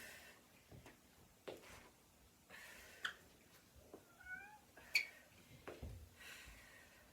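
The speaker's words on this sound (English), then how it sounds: "Don't know if you can hear the meowing." A cat meows a few times at a moderate distance, short rising calls amid soft household movement and faint clicks, with no one talking.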